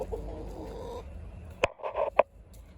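Backyard chickens cluck in a few short, close bursts after a low, steady rumble of background noise, with quiet gaps between the calls.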